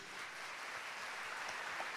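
A church congregation applauds with steady, dense clapping that fills the whole short stretch at a fairly even level, with no voices over it.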